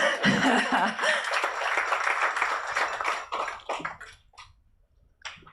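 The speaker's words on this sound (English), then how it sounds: "so please give him a round of applause." A room applauds a speaker at an environmental, social and governance awareness session, dense clapping that thins out and fades to near silence.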